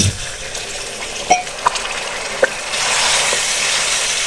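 Water poured into a sizzling pan of chickpea and chicken curry sets off a bright hissing, crackling sizzle, with a few sharp clinks of a utensil, the sizzle swelling louder toward the end.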